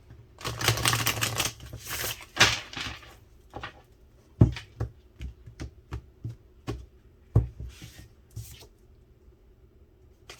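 Tarot cards are riffled and shuffled up close, a dense flurry of papery rustling followed by a string of separate snaps and taps.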